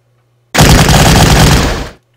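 Gunfire from a fortress in the WWII strategy game Battle Academy, Market Garden campaign: a loud, dense burst of shots running unbroken for about a second and a half, then cutting off abruptly.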